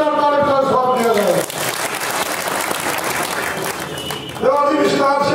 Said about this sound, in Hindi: एक बार जोरदार ताली का स्वागत दिया जाए